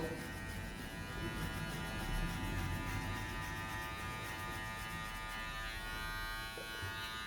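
Electric hair clippers buzz steadily at close range, cutting hair during a barber's home fade haircut, with a constant unbroken hum throughout.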